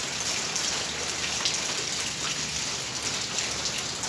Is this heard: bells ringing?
no